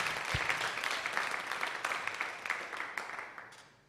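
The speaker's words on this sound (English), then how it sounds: "A hand of applause to Mr." An audience at a graduation event applauds, a dense burst of many hands clapping that gradually fades over a few seconds, with no voices over it.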